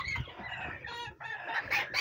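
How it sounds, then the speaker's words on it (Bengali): King quails call from inside an enclosure, a close run of clucking, chirping bird notes that rises into louder, sharper calls toward the end, with no one talking. "ওই দেখো দুইটা কিং কোয়েল।"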